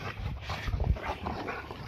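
Rottweilers working through one-on-one drills make close, low dog sounds, short huffs and whimpers over a rough outdoor background.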